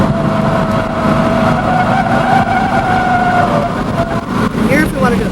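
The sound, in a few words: 1994 Ford Mustang driving and downshifting on straightaway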